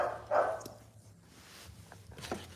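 Pit bull puppies giving a few short yips and soft barks, one sharper bark near the start followed by fainter whimpering yelps, fairly close and quiet, with no talking.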